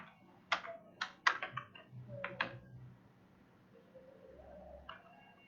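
Keys tapped on a computer keyboard while typing a line of web code, a few separate clicks in short bursts, fairly close and faint, with a quiet low hum behind them.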